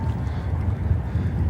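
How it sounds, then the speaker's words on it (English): Strong gusting wind blows outdoors in frigid winter weather, a loud, continuous low rumble buffeting the microphone with no voices. "He's standing out in pretty intense winds."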